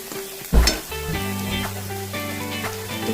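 Masala paste with chili powder frying in oil for eggplant bhaji, a crackling sizzle with a sharp burst as something hits the pan, then steady frying under stirring clatter.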